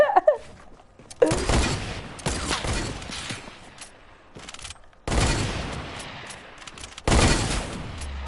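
Fortnite gunfire in loud bursts: sharp shots and rapid volleys separated by short gaps, one cluster after another across several seconds, with faint voices underneath.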